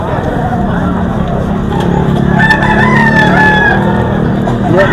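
A young rooster (stag) crows close by, its long rising call standing out over a steady background of chatter and crowd noise, with a shorter call starting at the very end.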